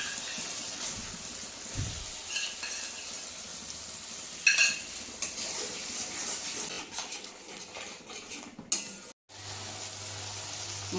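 Cauliflower and potato curry with yogurt is sautéed in a pan, giving a soft, steady sizzle broken by occasional scrapes and knocks of a spoon, all fairly quiet and close.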